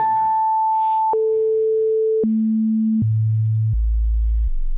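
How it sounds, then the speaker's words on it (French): Synthesized sine tone from live coding that steps down abruptly in four octave jumps, each pitch held about a second, ending in a deep low hum; loud, steady and alone. "Donc on va jouer un peu avec les fréquences."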